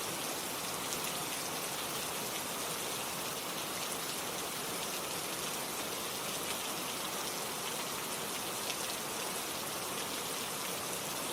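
Steady, even rain falls continuously, a dense hiss of drops hitting a surface with no pauses or other sounds.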